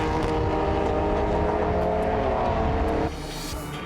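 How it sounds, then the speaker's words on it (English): MGB Roadster and Alfa Romeo Giulia classic racing cars at a circuit round the final bend onto the start-finish straight, a loud sustained engine roar that drops off abruptly near the end. "Les McLeod and his MGB Roadsters coming under increasing pressure from Paul Manigault in the red and yellow Alfa Romeo Giulia as they round the final bend and head on to the start-finish straight"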